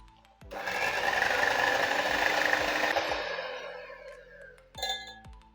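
An electric mixer whirs for about two and a half seconds through a milk powder and milk ice cream mixture, then winds down, followed by a short clatter, close by and alone.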